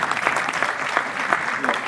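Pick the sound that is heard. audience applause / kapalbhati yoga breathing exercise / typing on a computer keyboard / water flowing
audience applause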